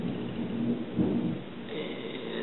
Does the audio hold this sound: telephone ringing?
no